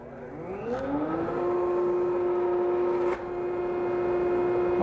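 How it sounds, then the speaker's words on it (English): A Delta 3/4 horsepower 50179 single-unit dust collector spins up with a rising motor whine and then holds a steady hum, close by and alone. "This is the ADELTA 3/4 horsepower 50179 single unit dust collector."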